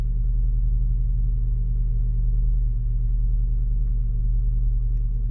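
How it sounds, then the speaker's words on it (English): A car engine with a possible timing chain fault runs at idle, giving a steady, loud low rumble with a faint rattling texture above it, continuous throughout with no talk. "It sounds like a timing chain."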